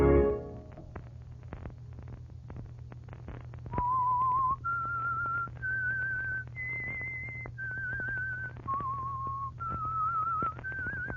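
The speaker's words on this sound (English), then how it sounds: "Let that whistle be your signal" A single person whistles a slow melody of held notes, each stepping to a new pitch, clear and close against a quiet background.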